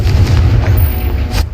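Confringo explosion spell cast in the video game Hogwarts Legacy, a loud, deep rumbling blast that stays heavy and sustained through the short moment before cutting off.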